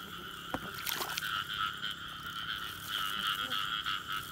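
Frogs croak in a steady chorus near water at night during a frog hunt, a continuous pulsing trill joined by a few close rustling knocks early on, with no talking.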